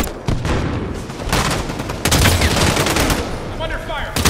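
Dense automatic gunfire in a Halo 5 Guardians multiplayer match, loud rapid bursts of shots with booming impacts, continuous over several seconds, with a faint game voice near the end.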